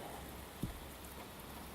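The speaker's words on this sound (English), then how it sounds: "Been raining for 45 minutes." Steady rain falls on an RV during a water test, a constant dense patter with one brief louder knock partway through, no voices.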